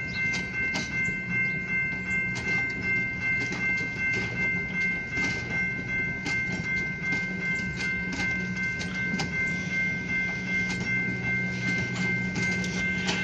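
A long passenger train hauled by an Alco S2 locomotive rolls past at steady volume for thirteen seconds, a continuous rumble broken by regular wheel clicks, with a high sustained tone running throughout.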